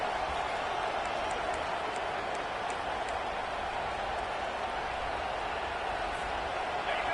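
Home stadium crowd roaring steadily in a college football video game, a dense, continuous wash of cheering that holds at an even level throughout.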